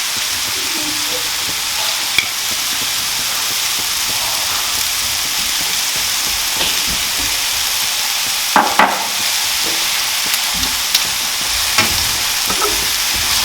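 Chicken sizzles steadily in a hot pan for sweet and spicy Southeast Asian chicken as a tablespoon of honey is stirred in, a constant crackling hiss broken by a few sharper scrapes and clicks of the spoon.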